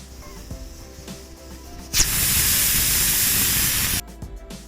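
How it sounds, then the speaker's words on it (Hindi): A sudden loud, steady hiss of steam bursts from a pressure cooker cooking camel pulao and holds for about two seconds, then cuts off abruptly, with quiet kitchen sounds before and after. "कुकर की सारी गैस निकल चुकी है"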